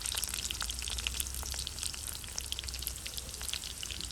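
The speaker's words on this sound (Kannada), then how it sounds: "ಒಂದು ಈರುಳ್ಳಿಯನ್ನು ಹಾಕ್ತಾ ಇದ್ದಾರೆ" Onion frying in heated oil for an egg dish, a soft, even crackling sizzle with scattered tiny pops, faint and continuous, with no voices.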